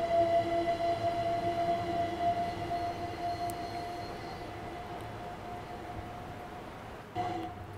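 A multiple-unit fast local train in the video game Train Sim World 4 runs with a steady droning rumble and a thin tonal whine, easing slightly before a brief swell near the end.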